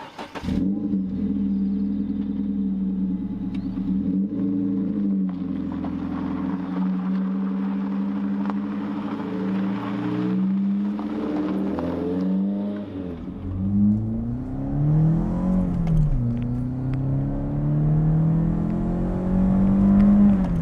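A Renault Clio 2 RS engine revving hard and pulling through the rev range, loud and close, with rising and falling tones as it climbs toward high revs and shifts.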